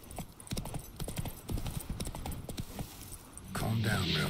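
Roach the horse in The Witcher 3, with crisp, rhythmic hoof clip-clops trotting close by, then a louder burst near the end that fits a neigh; a voice speaks over the hoofbeats.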